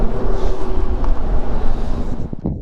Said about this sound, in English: it's a bit windy. that's very windy.